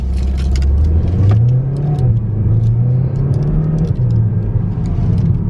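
A 2019 Mercedes A-Class engine accelerates from inside the car, a loud steady drone rising and shifting in pitch through the gears, with faint light rattles over the constant rumble.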